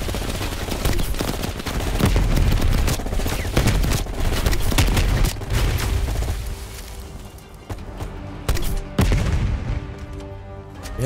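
Grenade launcher fire in the Call of Duty: Black Ops Cold War campaign, with repeated loud, booming shots and blasts in irregular bursts over dense battle noise, easing slightly near the end.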